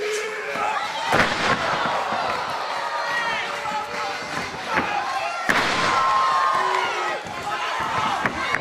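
Sharp slaps of wrestling chops land during a professional wrestling match at an Australian event, with a few distinct impacts ringing out over crowd noise while a commentator talks.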